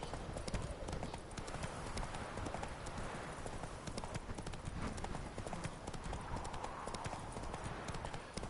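Steady clip-clop of the horse Roach's hooves in The Witcher 3: Wild Hunt, trotting rhythmically and close, continuous over a busy game soundscape with no speech.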